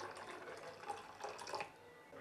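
Water poured into a mixer jar to rinse it: a faint, close splashing and trickling with small uneven surges, quiet and brief, with no talking.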